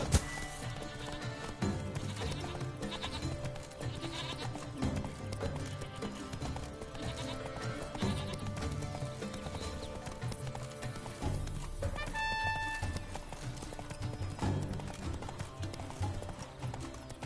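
Roach, the horse in The Witcher 3, gallops with continuous rhythmic hoofbeats and an occasional whinny, mixed with game music and ambience at moderate loudness.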